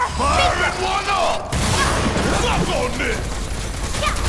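Barret's Focus Shot in Final Fantasy 7 Remake, firing during the Crab Warden boss battle amid constant game noise, with a loud burst partway through and mechanical clatter around it.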